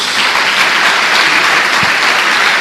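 A church congregation claps for Jesus during a Portuguese-language sermon, a dense, steady wash of loud applause filling the whole short stretch.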